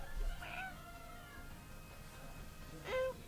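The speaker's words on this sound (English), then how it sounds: "It's a cute kitty." A kitten meows twice, short and fairly faint, about two and a half seconds apart over a low background hum.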